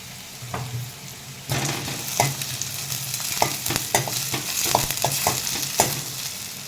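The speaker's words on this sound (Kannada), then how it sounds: "ಇವು ಫಸ್ಟಿಗೆ ಎಲ್ಲವೂ ಒಂದು ಸ್ವಲ್ಪ ಎಣ್ಣೆ ಒಳಗೆ ಫ್ರೈ ಆಗಿಬಿಡಲಿ" Onion, carrot and potato frying in a little oil, a steady sizzle broken by repeated clicks and scrapes of a spoon stirring the pan.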